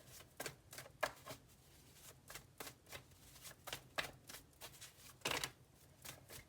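Tarot cards being shuffled, heard as a run of soft, close riffling and flicking bursts in an uneven rhythm with no talking.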